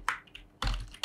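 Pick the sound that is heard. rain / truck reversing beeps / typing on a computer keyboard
typing on a computer keyboard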